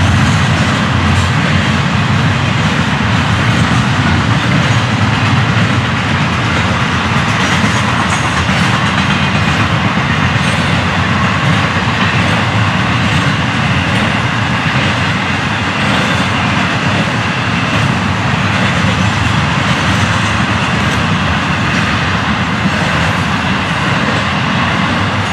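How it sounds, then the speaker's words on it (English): A Florida East Coast Railway train, locomotive 105, rolls past continuously with a loud, steady roar and rattling wheels on the rails, close and sustained throughout. "You see Carlos behind this train"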